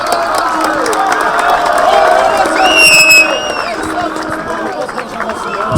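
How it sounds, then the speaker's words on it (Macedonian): Crowd at a small-sided football tournament final cheering and applauding for the mayor, a loud burst of clapping with whoops and a whistle-like tone, mixed with chatter and a voice on the loudspeaker. "Еден аплауз за градоначалникот."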